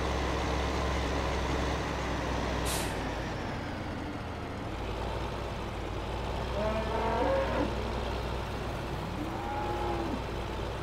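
Cattle lowing in Farming Simulator 15 on the Pleasant Valley map, a few drawn-out moos around the middle and end over a steady low rumble of farm machinery, with no talking.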